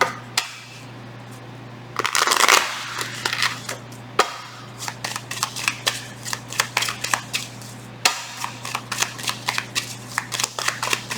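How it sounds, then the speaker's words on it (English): Tarot cards being shuffled at a reading table, a long stretch of rapid, crisp riffling and flicking at close range, with a steady low hum running underneath. "One last shuffle."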